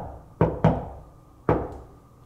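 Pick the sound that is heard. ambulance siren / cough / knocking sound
knocking sound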